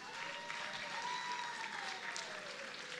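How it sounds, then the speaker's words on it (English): Applause for distinguished guests at the Miss World Nigeria 2026 pageant comes as a faint, distant, continuous wash of clapping from a hall audience, with a thin tone running through it. "Please give them a big round of applause"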